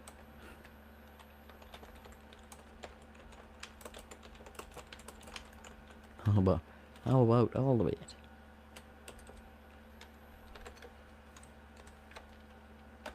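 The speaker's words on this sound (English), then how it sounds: "you can tell I haven't been typing in a while." Computer keyboard typing sounds as scattered faint clicks under a steady background hum, with a short stretch of speech in the middle.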